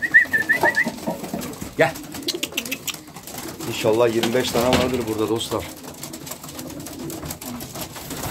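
Pigeons coo repeatedly nearby, a male among them, low throaty warbling calls rising and falling, with someone talking over them at times.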